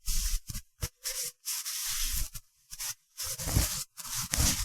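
A cloth rubs and wipes a handlebar on a 2020–2021 Kawasaki Ninja 1000SX, giving close, loud hissing strokes in short repeated bursts separated by brief silences, with no talking.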